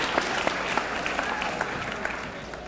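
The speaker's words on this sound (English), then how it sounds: "All right, y'all can clap about that too." A crowd at a football signing day claps in a sustained round of applause, with some louder individual claps standing out over the steady wash.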